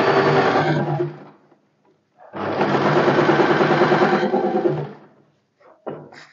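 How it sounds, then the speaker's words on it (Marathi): A sewing machine edge-stitches along a fabric strip during a sewing class. Two sustained bursts of fast, close mechanical whirring are separated by a pause, and a brief clunk comes at the end. "लॉक कंपल्सरी करायचं आणि बरोबर ही जी पट्टी आहे ना ह्याच्यावरती एकदम कडेने दाब शिलाई मारून घ्यायची."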